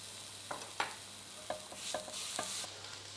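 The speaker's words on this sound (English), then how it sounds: "Then add in plenty of garlic and some salt and pepper and stir together for about 30 seconds." Onion, garlic, salt and pepper stirred and frying in a pan, a steady low sizzle broken by several sharp scrapes and taps of a utensil against the pan, close and moderately loud with no voices.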